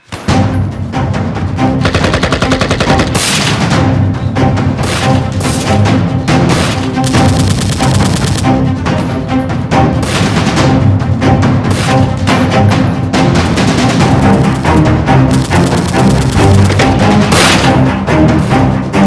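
Gunfire sound effect from outside in a Hyderabadi comedy film: loud, sustained bursts of rapid machine-gun fire and shots, dense and continuous for the whole stretch with no speech.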